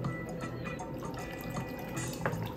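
San Pellegrino sparkling water pouring from a can into a glass, a steady fizzing, trickling stream heard up close with no talking over it.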